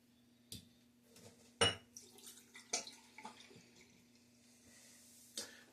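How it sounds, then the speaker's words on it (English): Water splashing as a razor is rinsed at a sink after wet shaving, a few sharp bursts of splashing and clinks separated by quiet moments, close by. "Give it a good rinse"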